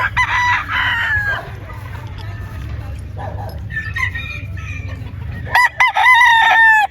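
Gamefowl roosters crow loudly and close by on a warm Philippine farm in Batangas, with several overlapping drawn-out crows and clucking over a low rumble, and someone speaking briefly among them.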